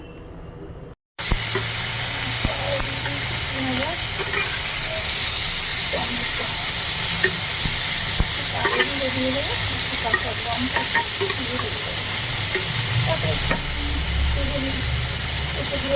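Hot oil sizzling and frying steadily in a home kitchen pan after fish has been fried, a loud continuous hiss with occasional pops and stirring scrapes, starting abruptly after a brief quiet moment.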